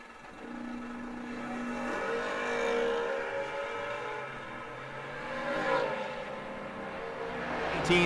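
A third-generation Camaro and an Oldsmobile Achieva race side by side on a drag strip, their engines revving and rising in pitch through gear changes, heard at a distance amid open track ambience.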